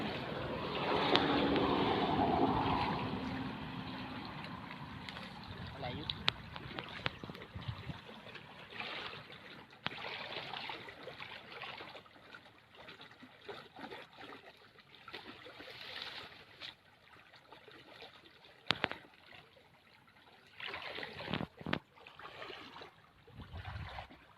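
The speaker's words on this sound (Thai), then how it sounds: "น้ำไหลแรงมากเลยครับ" Water gushes strongly into a pond being filled for the first time, a steady loud rush that eases slightly, with scattered splashes and bumps, and no talking.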